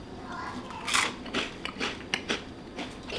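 Biting and chewing crunchy, slightly burnt cheese at a family dinner, several sharp crackling crunches in quick irregular succession, close and fairly loud with no talk.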